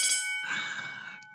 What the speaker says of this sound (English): I don't know if you have bells at the London Screen Academy, but we have them here, so I can hear one now.